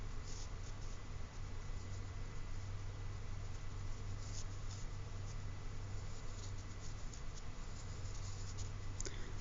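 A regular graphite pencil scratching steadily across paper during a drawing lesson, a continuous faint, close rasping texture with soft strokes and no speech.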